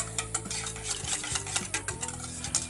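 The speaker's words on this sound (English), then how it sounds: "All right, whisk all that together." A marinade with red wine for venison backstrap being whisked in a bowl, quick rhythmic clinks and swishes of the whisk against the sides, close and alone.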